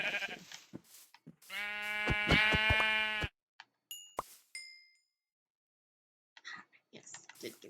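Minecraft sheep give a loud, wavering bleat lasting about two seconds, followed by short clicks, pops and scattered in-game sounds with brief quiet gaps.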